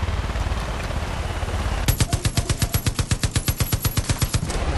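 A mounted machine gun in the video game Far Cry 5 opens up in a rapid, evenly spaced burst of loud gunfire that follows a stretch of rumbling background noise.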